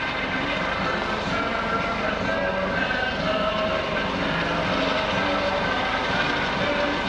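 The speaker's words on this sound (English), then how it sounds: "holding that Dolphin helicopter in a hover" A US Coast Guard Dolphin helicopter hovers during a search and rescue demonstration at the Greenwood Lake airshow, its rotor and turbine making a steady, loud, unbroken roar with faint voices underneath.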